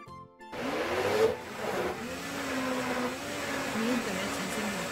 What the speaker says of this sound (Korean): 압력솥에서 푹 무른 자색 양파 건지를 블렌더에 갈아줍니다.